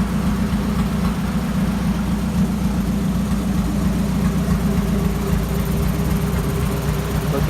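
A turbocharged Honda engine runs on a dyno, a steady, low, vibrating drone at an even level throughout, heard alone without talk.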